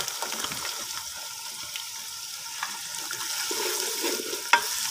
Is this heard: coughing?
no